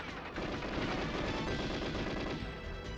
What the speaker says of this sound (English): I'm literally just going to body the shots from this turret